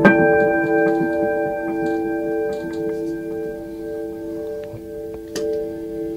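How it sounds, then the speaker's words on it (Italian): An instrument played through a chorus effect holds a steady, shimmering sustained tone with layered harmonics, loud and alone, with faint ticking transients scattered across it. "questo è un effetto di chorus."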